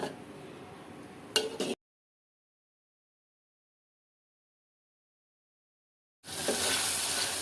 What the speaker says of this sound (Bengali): ভালো করে এটা একটু কষায় নেব তারপর ডাটা কষায় নেব